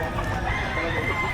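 A rooster crows among chickens at a weekend poultry market behind SM City Lipa in Batangas, a single close, sustained call under a noisy, crowded background.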